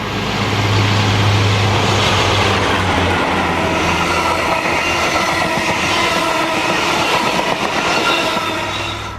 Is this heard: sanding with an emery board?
no